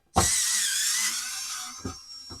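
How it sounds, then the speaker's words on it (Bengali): An electric screwdriver whirs loudly and close for a little over a second as it opens a voltage stabilizer, winding down, then two short bursts follow near the end, with no talking. "আমি এখানে স্ক্রুড্রাইভার ইউজ করতেছি ইলেকট্রিক স্ক্রুড্রাইভার"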